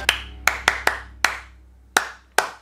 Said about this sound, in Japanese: その手拍子